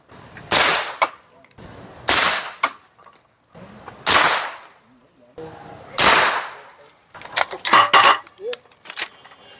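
Four loud, sharp 5.56 rifle shots fired at bulletproof glass, evenly spaced about two seconds apart, then a rapid cluster of cracks and clatter at the end, close and punchy.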